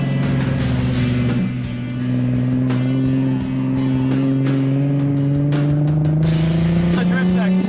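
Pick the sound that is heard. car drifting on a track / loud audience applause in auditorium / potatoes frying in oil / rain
car drifting on a track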